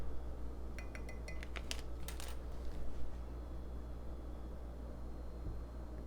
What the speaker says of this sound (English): And I'm going to keep mixing it in.